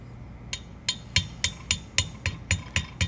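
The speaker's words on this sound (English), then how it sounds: "anytime you're using a hammer on these roll pins, you want to just give it light taps and work that roll pin in" Hammer lightly tapping a roll pin into an Eaton Carter ground fueling hydrant valve during repair: about ten evenly spaced light metallic taps, close and clear, with no talking.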